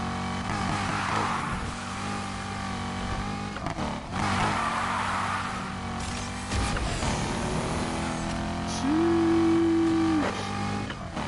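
A Corvette racing engine in the video game Need for Speed: Heat, droning and revving, with the pitch rising and falling as it shifts gears, and a steady high tone near the end.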